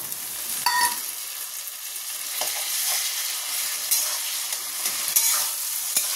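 Onions and tomato sizzle steadily in a hot pan, with occasional scraping stirs and a few clinks of a utensil.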